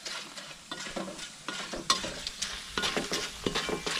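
Banana slices fry in oil for banana chips, a soft, steady sizzle broken by repeated scraping strokes of a utensil stirring the pan.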